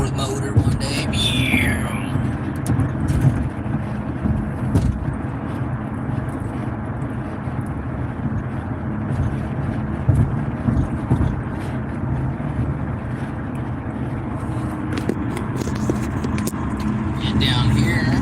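Steady road and car cabin rumble while driving through heavy traffic, with wind buffeting on the microphone and a voice talking intermittently throughout.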